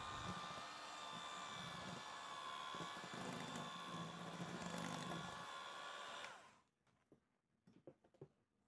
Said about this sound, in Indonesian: kemudian kita aduk lagi dengan menggunakan mixer kecepatan yang paling rendah